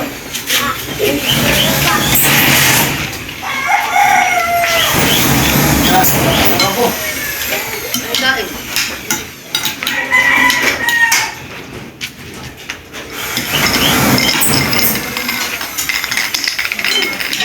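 A rooster crows amid loud, busy background noise, with people talking and clattering, knocking sounds throughout.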